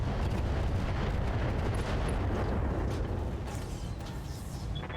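Mech weapons firing in a Battletech game, a heavy, continuous rumble of booming cannon and artillery-like blasts, loud and sustained, easing slightly toward the end.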